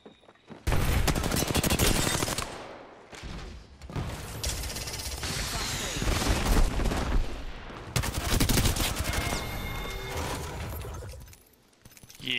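Rapid automatic gunfire rattles in long, dense bursts in an Apex Legends match, broken by short pauses and weapon-handling clicks, loud and close throughout.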